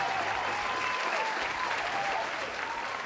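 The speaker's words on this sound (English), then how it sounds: "Claps for you, bro." Steady applause from a group, a dense continuous patter of clapping hands at even loudness throughout, with no one speaking over it.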